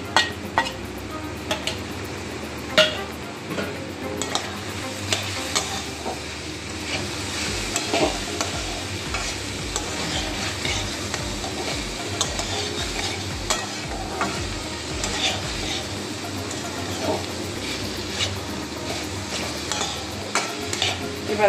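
Pumpkin and other vegetables are sautéed with chilli powder, salt and spices in a pan for a vegetarian sabji, with a steady sizzle under repeated scraping and stirring and a regular run of soft knocks in the middle.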